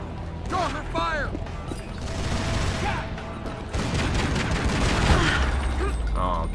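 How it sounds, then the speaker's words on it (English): Enemies open fire on Lara in Tomb Raider: Legend, a dense, continuous barrage of game gunshots with crashes and impacts, loud and steady throughout, with chirpy character sounds near the start. "Getting shot by everybody."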